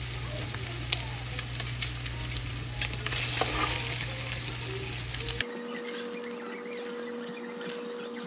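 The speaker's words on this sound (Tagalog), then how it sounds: "Saute for 5 minutes." Food sautéing in a home kitchen pan gives a steady sizzle and frying crackle for about five seconds, then drops to a quieter background with a faint hum.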